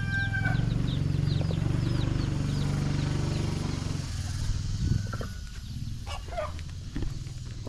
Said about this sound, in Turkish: Burada horozlar, ayrıca dövüş horozları.